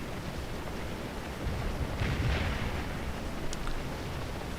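Distant massed gunfire in the Civil War video game Scourge of War, a continuous dense rumble of musketry and artillery with a swell in the middle, steady and far off.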